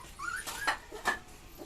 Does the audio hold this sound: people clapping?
no